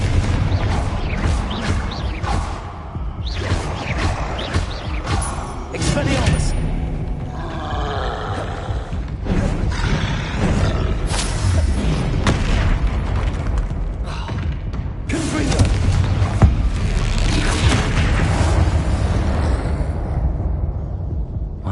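Repeated Confringo spell blasts in the Hogwarts Legacy video game, a series of heavy booming impacts and crashes through loud battle noise, with creature roars and grunts running throughout.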